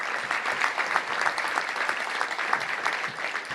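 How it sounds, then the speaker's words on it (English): Audience at a Little Rock Touchdown Club luncheon applauding high school award honorees; dense, steady clapping from a sizable crowd throughout. "Let's give them a round of applause right now."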